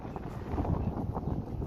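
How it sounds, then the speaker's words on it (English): Wind buffets the microphone outdoors with a steady, low, rumbling roar for the whole moment, close and fairly loud, with no voices over it. "Oh boy, it's windy."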